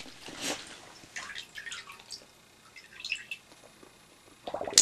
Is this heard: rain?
no